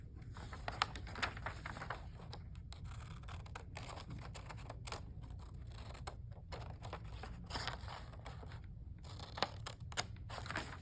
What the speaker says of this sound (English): So I'm just cutting along those creases up to that center crease.